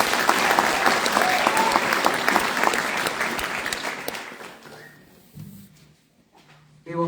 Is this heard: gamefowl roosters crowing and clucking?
no